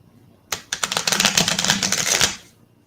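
A quick riffle of playing cards, a dense rapid flutter lasting about two seconds, close and fairly loud, then quiet.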